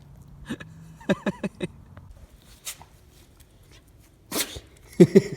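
A dog hiccups or sneezes in short bursts, then a sharp sneeze-like snort, with a person's voice briefly in between.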